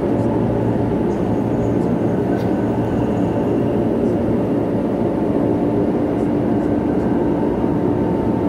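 Steady low rumble of an LRT light rail train riding along the tracks near Buendia Station, with a constant hum and faint rattles throughout.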